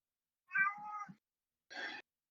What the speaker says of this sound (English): I heard just cat meowing.